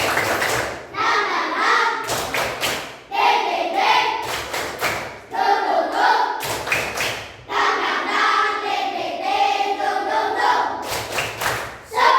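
A grade 5 class claps together in a brisk rhythmic spirit clap, broken into bursts with voices chanting and talking between them.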